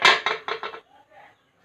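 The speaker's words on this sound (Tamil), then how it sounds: "மூடி வச்சிடலாம்." A metal lid goes onto a cooking pot of simmering bottle gourd and fish curry: a quick series of four or five bright clinking knocks, close and loud, then a faint settling rattle.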